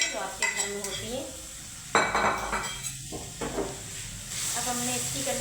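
A spoon stirs and scrapes a radish paratha filling in a cooking pan, giving close, continuous scraping with a faint sizzle and several sharp metallic clinks against the pan.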